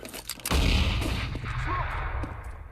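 A grenade detonates in a video game with one loud, booming blast that rumbles and fades over the next couple of seconds.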